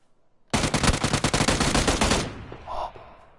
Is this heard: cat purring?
no